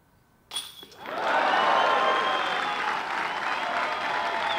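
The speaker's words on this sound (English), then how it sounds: "Finds himself the par to the applause of the crowd." A crowd at a disc golf tournament, the European Championship final, bursts into applause after a sharp onset, and the clapping holds loud and steady for several seconds.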